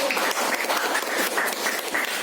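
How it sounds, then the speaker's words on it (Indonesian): Classroom applause from a group of students, dense and steady clapping that fills the whole stretch at a fairly close distance. "Beri tepuk tangan buat kita semua."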